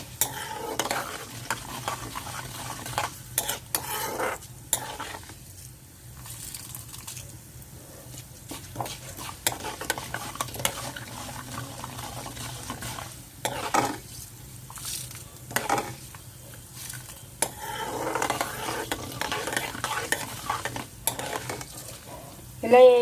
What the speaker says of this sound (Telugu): ఇలా వేగినాయండి మెంతులు, ఎర్రగా వేగిపోయినాయి.